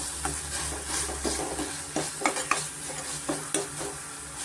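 Mashed tomato fries in a cooker for banana stem kootu, a constant low sizzle broken by repeated scraping taps of a spoon stirring against the pot, close and moderately quiet.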